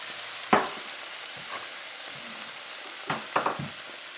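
Chicken thighs sizzle softly in a pan at a low, steady hiss, broken by a few brief louder crackles and stirring clatters near the start and end.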